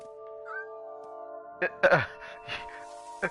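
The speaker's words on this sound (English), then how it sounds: "Oh, I can hear little cat sounds." A cat meowing in the video game What Remains of Edith Finch, with soft, brief mews over a sustained tonal game ambience and a few short clatters.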